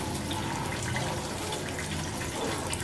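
Chopped onions, about one and a half pounds, go into hot oil for haleem and sizzle in a steady, broadband hiss that holds at one loud level throughout, with no talking.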